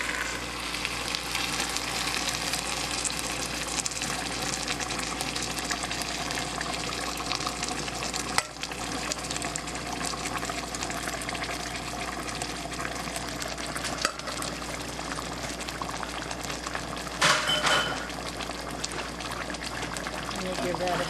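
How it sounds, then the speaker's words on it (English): Two cans of peeled tomatoes pour and splat into a hot pot of caramelized braised pork ribs, giving a steady sizzling, wet churn throughout with a few soft knocks, while someone talks over it. "we're going to stir in our 2 cans of peeled tomatoes"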